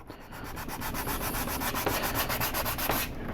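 Sandpaper rubs steadily over a 1/4 scale Punisher vs Walking Dead figure being prepped for primer, with close, even back-and-forth strokes repeating in a regular rhythm throughout.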